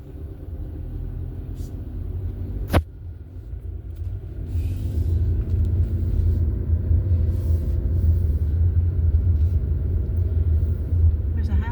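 A car on a road approaching at Christmas-time, a low steady engine and tire rumble that swells and holds for several seconds, with a sharp click early on and faint background noise.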